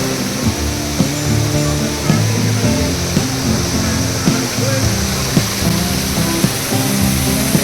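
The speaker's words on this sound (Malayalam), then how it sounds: "എയർപോർട്ടിനകത്ത് മനോഹരമായൊരു വെള്ളച്ചാട്ടം" Indoor waterfall within an international airport departure area, giving a loud, steady rush of falling water with faint terminal murmur and brief clicks mixed in.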